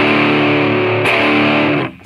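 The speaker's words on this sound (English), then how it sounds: "trebly, high, almost piercing distortion" Bright, piercing distorted electric guitar chord through a DOD Boneshaker distortion pedal, ringing out harshly and trebly for under two seconds, then cut off abruptly.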